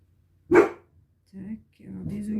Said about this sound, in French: ma Fifi elle aboie, elle entend du bruit